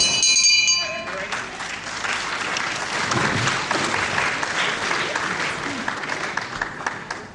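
Crowd applause at a wrestling match in the Cliffs Pavilion, Westcliff-on-Sea, a steady hall-filling clatter of clapping heard beneath a commentator talking, after a brief ringing tone at the start.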